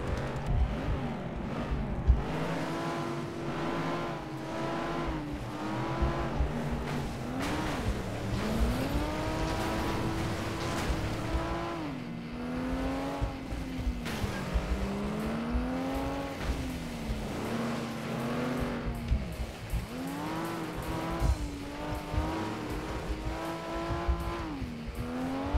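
Race car engines in the racing game FlatOut, with a loud continuous engine drone that climbs and drops through repeated gear shifts, plus tire squeal and cars passing, with no talking.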